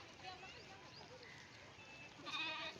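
Faint bleats from a grazing sheep flock near a river in the Karnala fort area, a few scattered calls with one louder near the end, under quiet voices talking.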